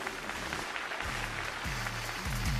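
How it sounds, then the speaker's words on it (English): Audience applause for the Gilas Pilipinas basketball team at a FIBA Basketball World Cup 2023 one-year-to-go celebration: a steady, dense wash of clapping from a large crowd over a low rumbling background, filling the whole moment. "a round of applause for our Gilas heroes."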